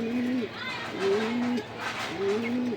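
Pigeons kept for sale, including Damascene and grizzle birds, coo in a repeated low rolling rhythm, three drawn-out calls close by, with someone talking over them.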